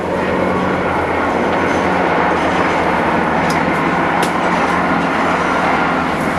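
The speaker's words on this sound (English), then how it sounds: "Train going by." A train rumbles past close by in a loud, steady roar that holds throughout, with faint metallic squeals on top.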